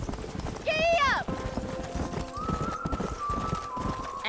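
In Red Dead Redemption, a horse gives a loud rising whinny, then hooves clip-clop steadily at a trot, while people talk over the rhythmic hoofbeats.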